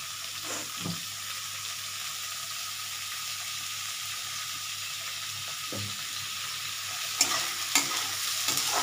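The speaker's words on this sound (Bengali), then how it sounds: "এবার আমি এই পেঁয়াজ আছে, পেঁয়াজটা আমি দিয়ে দিচ্ছি। একটু সরষের তেল লাগবে।" Onions frying in mustard oil for chicken kasa, a steady soft sizzle throughout with a few brief stirring clinks and scrapes near the end.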